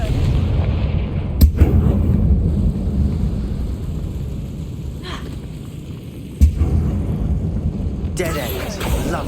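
Confringo blasting spell in the Hogwarts Legacy video game, heavy booming explosions with sharp impacts over a dense rumbling game soundtrack, loud and close, with a character voice speaking.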